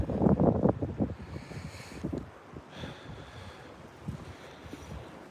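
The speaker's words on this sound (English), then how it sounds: "that wind is starting to pick up too" Wind gusting outdoors on a bass fishing boat, buffeting the microphone with loud rumbling bursts at first and then settling into a steadier rushing noise.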